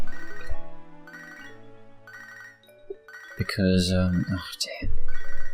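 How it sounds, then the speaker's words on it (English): A phone rings in Pokémon HeartGold, the repeating electronic ring tone playing over game music for a few seconds before a voice speaks briefly and a louder game sound cuts in. "The phone's ringing"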